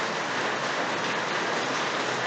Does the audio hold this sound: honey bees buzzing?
no